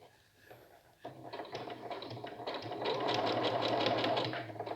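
Sewing machine stitching a toiletry bag, running steadily at close range after a brief quiet start, with a fast continuous mechanical whir that grows slightly louder toward the end.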